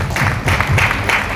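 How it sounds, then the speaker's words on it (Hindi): A crowd at a Garba event poster launch gives a short, loud burst of applause with a few raised voices underneath. "एक बार तालियां आप सभी लोगों के लिए भी हो जाए."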